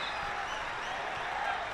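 Trinity College supporters at a rugby final make a continuous, distant roar of cheering and clapping, a steady broad wash with no distinct claps standing out.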